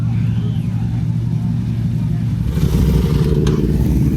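A twin-cylinder racing motorcycle on the Isle of Man TT course, arriving after two laps: a steady low engine drone that grows louder and rougher as it draws near, with a sharp clatter near the end.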